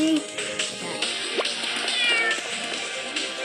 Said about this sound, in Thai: แมว แมว แมว